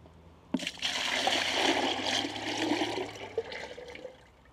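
Thin liquid poured from a pouring bucket, a steady loud splashing stream that starts abruptly and runs for about four seconds before tapering off, with no talking.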